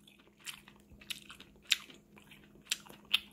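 Someone bites into and chews a mildly spicy sausage, producing several close, brief crunchy bites and wet chewing sounds, with sharper snaps spread across a few seconds.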